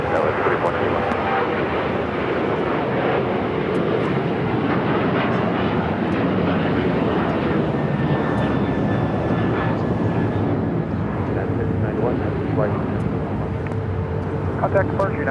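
Jet aircraft engine roaring steadily on takeoff at LAX, a continuous loud rumble with faint radio tower chatter in the background.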